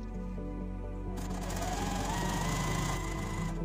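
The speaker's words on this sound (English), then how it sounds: "sew all the way down the seam" A sewing machine runs a seam down a scarf, starting after a quiet moment and then whirring steadily and close for a few seconds.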